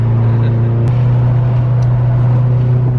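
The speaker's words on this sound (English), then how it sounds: "exhaust rattle for sure though" A Mitsubishi Evo cruises toward the highway with a steady loud low engine drone and a faint metallic exhaust rattle riding on top, continuous from start to finish.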